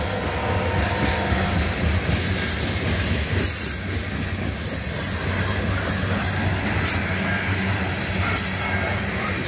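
A CN ballast train with ET44AC and ES44AC locomotives rolls slowly by nearby, wheels rumbling and clacking continuously, with metallic squeals and brief high screeches of wheels on rail.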